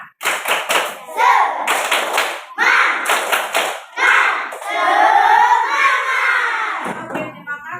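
A class of schoolchildren performs a rhythmic spirit clap (tepuk semangat), with bursts of hand claps and loud group chanting and shouting in unison, ending in a long sustained collective cheer.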